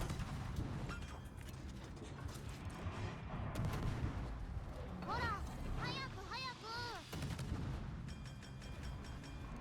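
Naval gunfire in a battleship video game, with booming shot blasts under steady engine and sea rumble. Some whistling shell tones follow midway through the shots.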